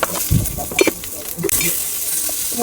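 Ginger roasting in a hot pan, a steady loud sizzle with stirring scrapes and clatter in the opening seconds, close by.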